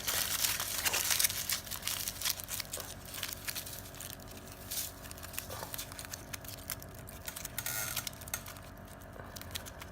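Aluminium foil wrapped around a balled-up newspaper for a homemade Christmas decoration, making continuous close crinkling and crumpling throughout.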